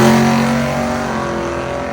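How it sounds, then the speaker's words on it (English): A loud drag race car, a twin-turbo LS-swapped Dodge Charger, roars at high revs as it launches off the line, sustained and steady, then gradually fades slightly as it pulls away. "you can tell that car was hooking and booking off the line"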